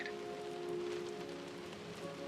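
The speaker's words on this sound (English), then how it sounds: "Hear the rain outside." Rain falling outside a ship in the game Close to the Sun, a soft, steady patter beneath faint humming tones, even and continuous throughout.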